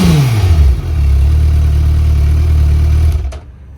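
A 2024 Suzuki Hayabusa Gen 3 superbike engine fires up with a quick falling rev, then settles into a loud, steady, deep idle close by before dropping away near the end.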